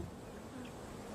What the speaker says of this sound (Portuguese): E então, surgiram as abelhas